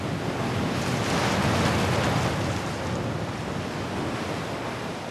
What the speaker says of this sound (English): Waves are just washing up the beach, just taking the whole beach with one wave.